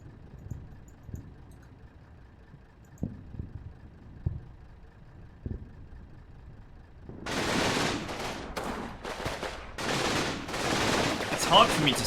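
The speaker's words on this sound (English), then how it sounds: "I guess because I set a fabulously massive artillery strike" Massive artillery strike in the WWII video game Combat Mission: Battle for Normandy, starting with scattered faint thuds, then a heavy barrage of loud, overlapping explosions and rumbling blasts that roll on continuously.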